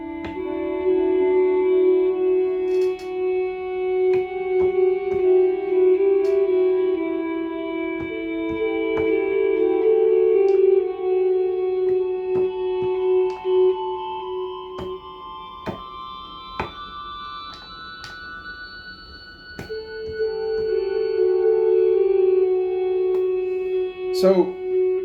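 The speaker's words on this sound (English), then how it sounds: "so you can hear what the Frippertronics actually sounds like as an effect in isolation" Frippertronics guitar delay loop heard alone: sustained layered guitar tones repeating and overlapping, with sharp plucked note attacks scattered across a smooth, echoing wash that swells and fades.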